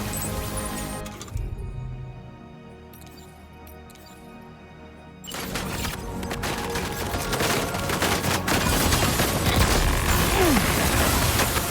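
Mechanical whirring gives way to a sustained barrage of heavy cannon fire in the video game Death Stranding 2: On the Beach, continuous booming blasts with metallic clatter, loud and close.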